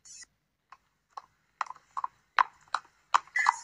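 A horse's hooves clop in irregular, sharp knocks, sparse at first and then quicker and louder, close and mostly alone against a quiet background.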